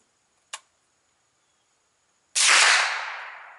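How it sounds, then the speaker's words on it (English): A single Remington Golden Bullet round is fired, opening with a brief sharp click, then a loud close-range gunshot bang that rings out and decays over about a second. "I'm going to shoot the Remington Golden Bullet"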